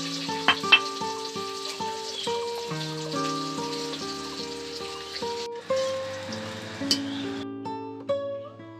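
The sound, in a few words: panch phoron spices sizzling in hot oil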